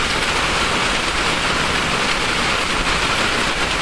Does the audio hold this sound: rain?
yes